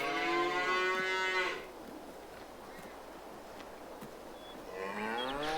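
Cows in the Farming Simulator 22 video game moo in two drawn-out calls, one at the start and another near the end, with a low murmur of farm ambience between them.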